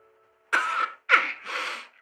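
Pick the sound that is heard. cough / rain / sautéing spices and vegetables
cough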